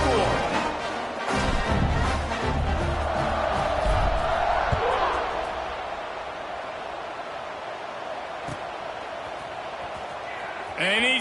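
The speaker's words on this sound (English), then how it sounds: "this crowd is buzzing after that last score" Football stadium crowd at a USF versus UAB game, buzzing loudly after a score, with a dense roar that swells in the first half and then settles to a steadier murmur.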